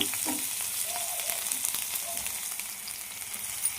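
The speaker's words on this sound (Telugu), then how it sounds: "నిదానంగా ఆయిల్ ఉంచేసి కదే బండిలో ఉల్లిపాయ, పచ్చిమిర్చి సన్నగా తరిగింది" Finely chopped onion and green chilli fry in oil in a kadai with a bright, steady close sizzle and faint occasional stirring.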